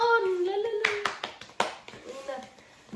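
A few quick hand claps rise over a voice talking, close and short, sounding during a lively panipuri eating challenge at home.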